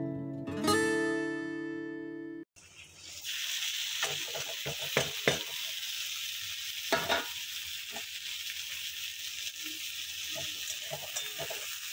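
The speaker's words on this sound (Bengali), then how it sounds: "লাল লাল করে ভেজে নেব, বেশি পুড়ানো যাবে না" Tilapia fish fries in a pan, a steady close sizzle with occasional stirring or utensil knocks, following a brief tonal chime at the start.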